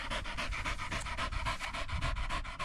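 A dog pants rapidly and rhythmically close by after a retrieve outdoors, quick steady breaths continuing without pause.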